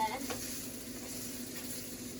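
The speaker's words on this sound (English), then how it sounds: "they're going to start sizzling right away" Steady, dense sizzling of potatoes frying in a pan, a continuous crackling hiss with no talking.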